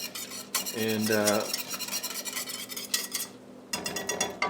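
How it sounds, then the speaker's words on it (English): A whisk scrapes and stirs through honey mustard BBQ sauce in a bowl, a close, steady swishing with a few metallic tinks, and a brief spoken word near the start. "Kind of keep whisking it to break up the mustard and incorporate the brown sugar and everything."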